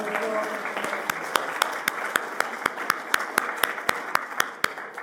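A church congregation claps after a musical improvisation, starting as scattered applause and settling into a sharp, steady rhythmic beat of unison claps, roughly four per second, with voices murmuring underneath.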